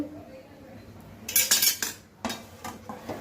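A spoon clatters and scrapes against a metal pot while stirring roasted spice powder, coconut powder and ginger-garlic paste, with a few sharp clinks in quick succession after a quiet start.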